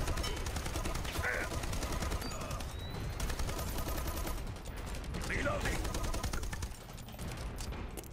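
Rapid, sustained gunfire from a weapon in a video game fills the whole stretch, loud and dense with mechanical clatter mixed in and only brief dips in intensity.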